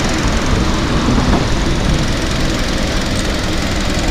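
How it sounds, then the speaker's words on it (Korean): A Hyundai LF Sonata LPI engine runs after starting, a loud, steady, close rumbling drone holding constant throughout with no voices. "시동 걸었습니다."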